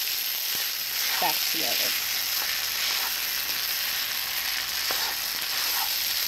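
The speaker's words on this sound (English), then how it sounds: "push your rice to the side, and then scramble your egg here, and then mix it all" Egg scrambling beside fried rice in a hot pan, a steady broad sizzle running throughout with a few scraping and clinking utensil sounds, while a person talks briefly over it.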